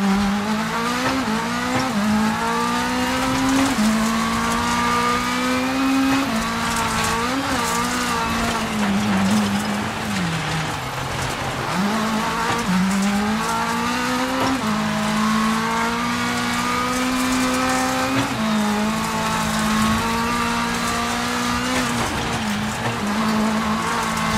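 A rally car tears through a WRC video game stage in Estonia, its engine rising and falling in repeated revving sweeps with gear shifts, tire squeal and skidding, loud and continuous throughout.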